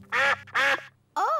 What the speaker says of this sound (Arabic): إنهم البط.